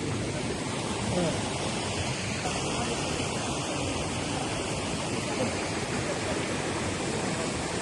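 Shiraito Falls near Fujinomiya, Japan, in a mountain setting, pours as a broad, constant roar of falling water that stays steady and dense throughout, with no voices.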